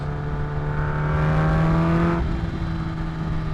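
Kawasaki H2 motorcycle with a full Van Diemen exhaust accelerating on a freeway, a loud, close engine whine climbing steadily in pitch over wind rush, then dropping abruptly as the throttle eases off.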